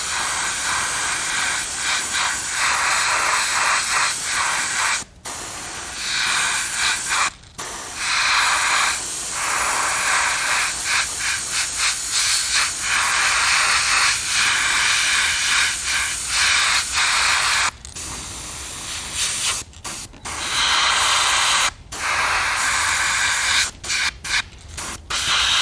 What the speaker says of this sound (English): opaque yellow loaded into the airbrush. And all I want to do is paint the tail of this bait with the opaque yellow.